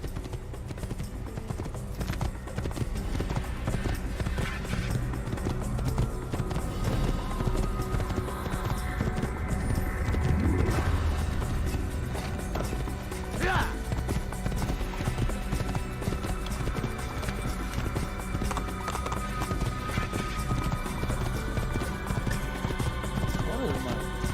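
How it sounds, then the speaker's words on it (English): Horse hooves clip-clop at a canter in Assassin's Creed, a steady galloping rhythm that continues under music and game ambience, with speech-like sound mixed in. "That is quite a painful canter there."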